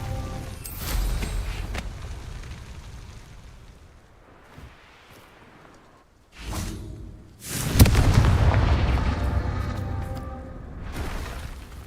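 Confringo blasting spell in Hogwarts Legacy, a fiery magical explosion with a deep boom near the start, a sharp burst around six seconds, then a loud crackling blast that rumbles and trails off over the following seconds.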